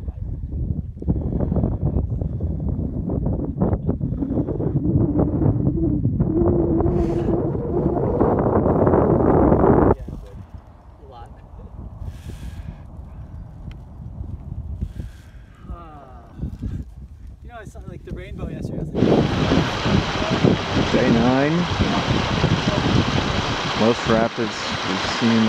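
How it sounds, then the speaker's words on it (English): Gusty, cold, rainy wind at Gates of the Arctic in Alaska rumbles against the microphone, rising and falling, while a person speaks over it in several stretches. "it is windy and cold too, and rainy"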